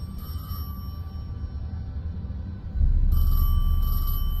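A telephone rings in Zenless Zone Zero, with short bursts of a high electronic ring separated by a pause over a low droning background that swells louder partway through.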